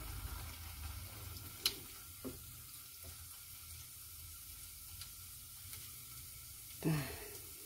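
Kue renga, a ginger and onion snack, frying in hot oil with a faint continuous sizzle, a few soft clinks of utensils and low background noise.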